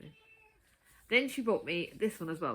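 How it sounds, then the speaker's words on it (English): A pet cat meows in a home, a faint drawn-out cry at first, then someone talks over it. "You can hear him meowing"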